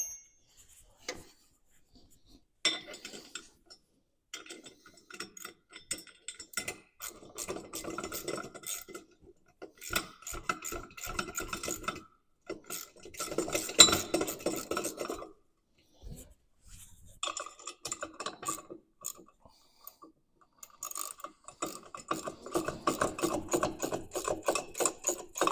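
Metal parts and tools clink and rattle up close while Rock Knockers are tightened onto a Segway Villain, with irregular bursts of clatter broken by short quiet gaps.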